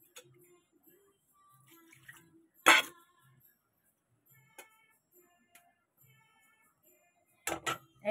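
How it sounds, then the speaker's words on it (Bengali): A wok (kadai) is washed in a home kitchen: scattered metallic clinks and trickling water, with one sharp clatter near the start and another burst at the end, otherwise quiet. "কড়াইটা ধুয়ে নেবো, মাছের ঝোল বসাবো তাই।"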